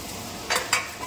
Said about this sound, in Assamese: মাছখিনি এফালে ফ্ৰাই কৰি আছোঁ